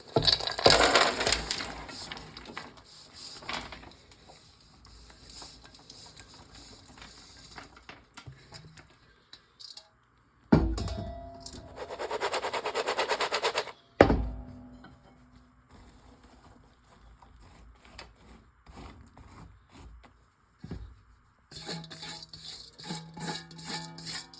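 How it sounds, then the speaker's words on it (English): Candied spiced nuts coated in sugar and spice are tipped and scraped from a bowl into a baking dish, with bursts of rattling, crunchy pouring and scraping between quieter stretches, up close. "Now all I'm going to do is transfer that over to my baking dish."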